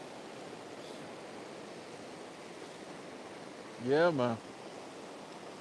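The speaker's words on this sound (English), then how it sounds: "the creek's actually up." Creek running high over rocks, a steady broadband rush filling the whole clip at moderate level, with someone briefly speaking over it near the end.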